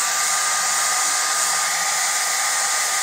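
A hair dryer drying airbrush paint on rayon blows steadily and loudly, a constant whooshing hiss that stays level throughout with no voices.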